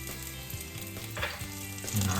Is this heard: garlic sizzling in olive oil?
yes